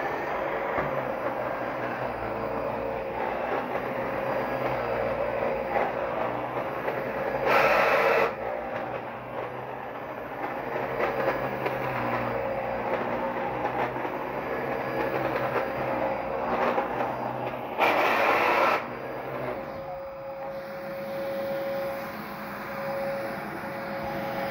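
A Dyson DC-17 vacuum cleaner running continuously at a steady, loud whine with a broad airy roar, briefly surging louder twice, with no talk.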